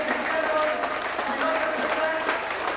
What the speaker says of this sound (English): deserve the round of applause that's given to them